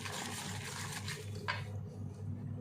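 Water poured into a bowl of gram flour (besan) batter for potato chip pakoras, a short splashing pour near the middle over steady kitchen background hum.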